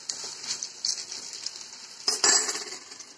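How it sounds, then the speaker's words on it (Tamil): Raw banana pan-roasting with chili powder and salt, a soft sizzle broken by metal spoon scrapes and clinks against the pan, the loudest scrape near the end, brief and close. "மிளகாய்த்தூள், உப்பு போட்டு அவ்வளோதான் வறுத்து எடுத்துட போகிறேன்"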